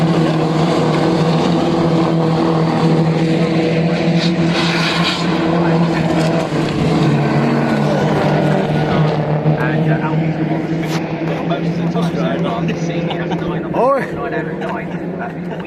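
Mini Challenge race cars roaring past the grandstands at Oulton Park circuit, a steady, loud engine drone with shifting pitch throughout, overlaid by continuous race commentary.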